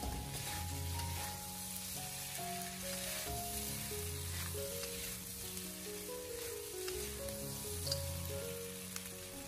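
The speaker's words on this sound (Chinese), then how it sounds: "然后再把它简单的翻炒几下，把它翻炒均匀" Chicken pieces stir-fry with ginger and scallion in a wok, a loud continuous sizzle with light tossing scrapes, underneath steady background music and no speech.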